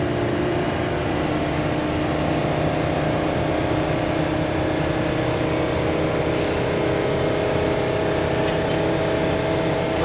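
Throaty V10 exhaust of a 2015 Thor Four Winds 28F Class C motorhome with 18,000 miles, a steady loud droning engine rumble heard from the cab while driving, with constant road noise and no talking.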